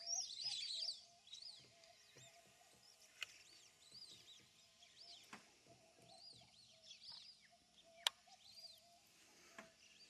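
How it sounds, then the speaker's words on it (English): Whistling ducks calling from a boat on the water, giving thin repeated high whistles and chirps spread across the stretch, fairly faint against a low background hum. "Whistling ducks."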